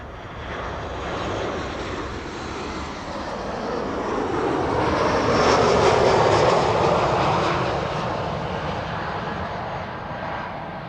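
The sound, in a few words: Boeing 737-800 jet arriving from Hamburg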